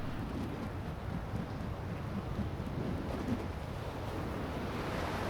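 Strong wind blowing off a lagoon at an albatross nesting ground: a steady, dense roar of rushing air, loud and unbroken throughout, with no voices.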